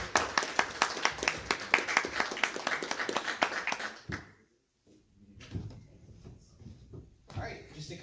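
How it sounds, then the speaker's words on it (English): An audience at a Hacker Dojo lightning talks evening claps for the speakers, brisk applause filling the first four seconds before cutting off, followed by quiet room noise and a few soft knocks and rustles. "let's do one more round of applause for all the speakers tonight."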